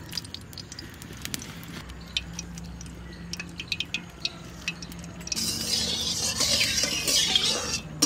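Mustard oil heats in a pan ahead of meat going in, with quiet clinks and stirring at first, then a steady, fairly loud frying sizzle that starts partway through and keeps going to the end.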